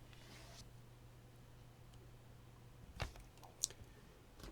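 Computer mouse clicks while deselecting objects in GIS software, two or three quiet isolated clicks against a low steady hum, with no talking.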